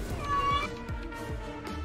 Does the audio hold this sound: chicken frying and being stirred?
no